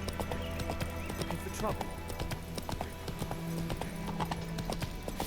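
Hooves of Roach, a horse in the Witcher 3 video game on PS5, clip-clop in a steady galloping rhythm with a brief whinny, while someone talks over the hoofbeats.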